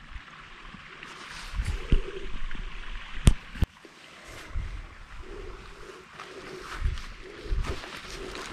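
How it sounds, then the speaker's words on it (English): Seasonal creek running near a historic ferry townsite, a faint steady wash of flowing water with low rumbles and a couple of sharp clicks over it, no voices. "That water you're hearing is from a seasonal creek over here."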